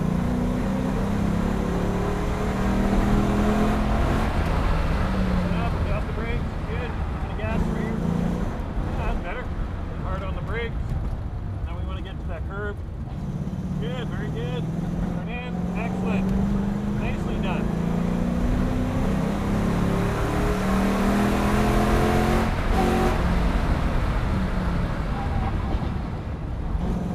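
Ford Mustang engine droning and revving on a race track at Mission Raceway, a loud continuous roar with rising and falling pitch as it accelerates, with voices talking over it.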